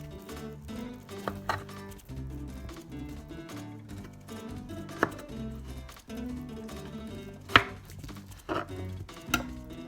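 A knife slices salmon on a cutting board in a series of irregular taps and thuds, with a few sharper knocks over a low tonal background.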